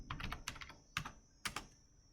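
Quick clusters of keystrokes on a computer keyboard as a username and password are typed, with short bursts and a few sharper isolated clicks, close and fairly quiet, no voices.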